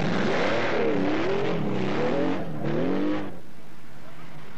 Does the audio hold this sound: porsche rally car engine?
yes